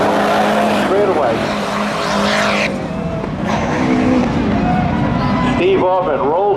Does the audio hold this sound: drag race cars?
yes